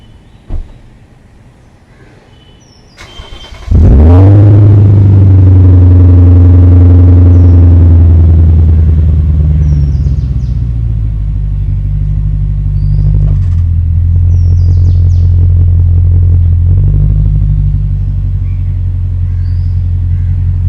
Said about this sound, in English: I'm going to leave the mic outside so you guys can listen to this exhaust